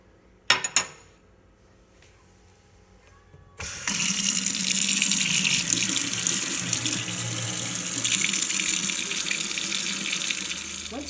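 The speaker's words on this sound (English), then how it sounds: "When you're done with the knife, wash it off." After a couple of brief knocks and a quiet pause, a kitchen tap opens and runs water steadily into a sink to rinse a knife, a close, constant splashing rush.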